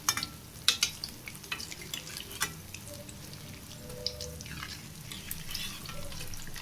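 Urad dal vadas frying in hot oil, a steady soft sizzle with scattered crackles and pops and a few sharp clinks near the start, no talk.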